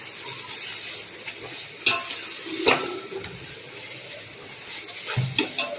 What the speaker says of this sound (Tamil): இஞ்சி பூண்டு பேஸ்ட் 2ம் கலந்து அரைச்சது அதை சேர்த்துட்டு நல்லா மிக்ஸ் பண்ணி விட்டுருவேன்